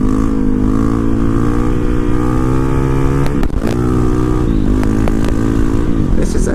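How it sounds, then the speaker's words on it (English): A Honda CRF450RL dirt bike with a flashed ECU rides along with a loud, close engine drone, the pitch easing and rising with throttle changes and a brief blip midway. "A hooligan motorcycle, I tell you what."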